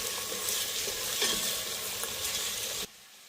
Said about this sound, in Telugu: సాల్ట్, కొంచెం ఆనియన్ ఫ్రై అవ్వడానికి